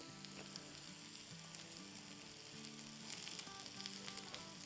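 A vegetable pancake sizzles steadily in a pan over medium-low heat as its other side cooks, a soft continuous frying hiss with faint crackles throughout and no voices.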